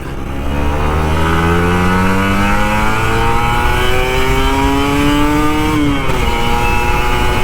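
An old Kawasaki Ninja RR 150 two-stroke motorcycle engine revs hard and close, its pitch climbing steadily through several rising sweeps before dropping off near the end, loud and alone.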